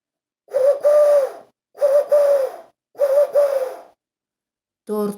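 A turtle dove coos nearby in three evenly spaced, soft, rounded phrases, each a doubled low purring note, followed by a brief clipped fragment at the end, with silence between calls.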